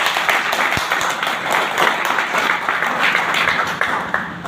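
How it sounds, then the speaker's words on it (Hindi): Applause from an audience at a live business seminar in Haryana, a steady, dense wash of clapping lasting throughout, fairly loud and continuous without pause. "एक बार तालियां बजा दो इनके लिए।"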